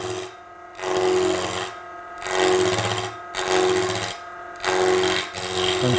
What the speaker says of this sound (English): Chisel cut.